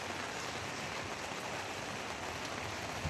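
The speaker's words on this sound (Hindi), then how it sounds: "साउंड चेक करें बारिश का" Heavy rain pouring in Riyadh, a thick, even rushing wash of water over surfaces that holds steady throughout without speech.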